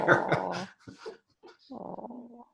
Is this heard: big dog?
yes